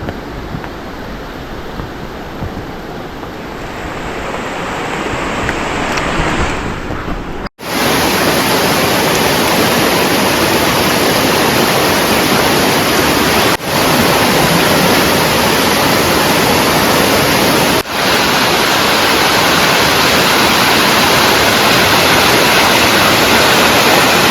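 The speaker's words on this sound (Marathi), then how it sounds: "पाऊस चालू झाला" A loud, steady roar of heavy rain pours without a break, dense and close, with a couple of brief dropouts.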